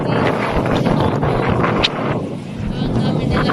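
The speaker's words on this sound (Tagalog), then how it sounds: "Basta ang lakas ng hangin." Strong wind buffets the microphone on a high seaside cliff at Cape Greco in Protaras, Cyprus, a loud continuous low roar with gusty swells, the sea faintly beneath.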